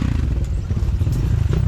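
A motorcycle on a dirt track rumbles steadily nearby, its low engine drone mixed with clattering and scraping over rough ground.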